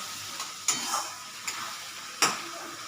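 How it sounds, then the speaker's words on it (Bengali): Spice paste for a spicy tilapia curry sizzles in a pan while a spoon stirs it. Steady frying hiss runs throughout, broken by a few sharp scraping knocks of the utensil against the pan. "মশলাটা কষা হয়ে যাচ্ছে আমার"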